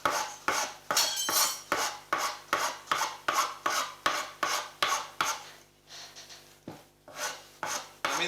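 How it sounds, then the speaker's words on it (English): A saw rasp worked on a wooden instrument part for a sanshin or shamisen build, its finer side used: steady rhythmic rasping strokes, about two per second, close and fairly loud, briefly pausing before resuming. "I'm going to start with the finer side of the saw rasp, just to start to shape that down a bit."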